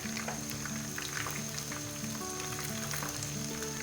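Besan-coated chicken tikka pieces fry in hot oil in a pan, a steady close crackling sizzle with scattered pops and no voices.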